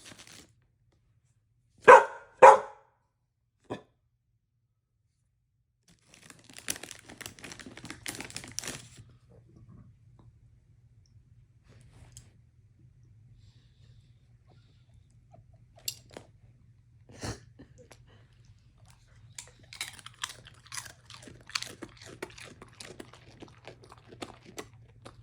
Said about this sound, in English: The sound of him eating chips is total dog ASMR.